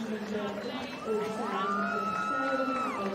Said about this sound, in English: A nice cheer there